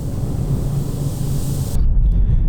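Strong wind blowing across open Wyoming country, a loud steady roar buffeting the microphone, rising into heavier low rumbling gusts near the end, with no voices.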